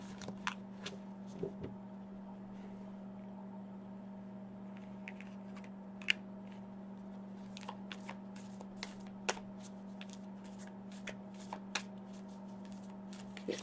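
A Moonology oracle card deck being shuffled, soft close riffles and scattered card taps over a steady low hum, quiet and without talk.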